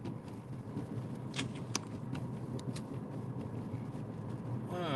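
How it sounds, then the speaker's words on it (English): Road traffic rumbles from inside a car stuck behind a garbage truck on a winter morning, a steady low engine drone with a few faint clicks and brief brighter noises, moderately quiet and without talk. "Stuck behind a garbage truck."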